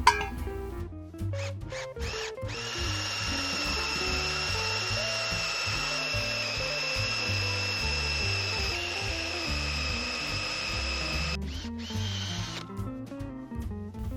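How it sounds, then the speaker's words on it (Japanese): A power drill bores a hole into a wooden log chopping block, its motor whining steadily for several seconds with chattering, grinding bite into the wood and short stops at either end. "この薪割り台に先ほどの鉄パイプが刺さるような穴を開けます。"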